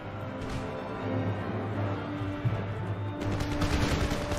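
Musket infantry firing at will in an Empire Total War battle, scattered crackling shots over a steady battlefield din with a low droning tone, moderately distant and dense toward the end.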